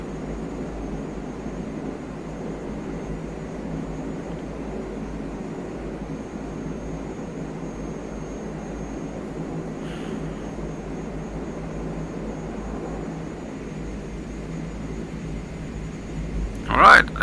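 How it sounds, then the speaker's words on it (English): A CL-415 water bomber in Microsoft Flight Simulator 2020 taxies slowly with its engines running: a low, steady drone that holds through the clip, a brief sharper sound near the end. "we're gonna taxi slowly backwards"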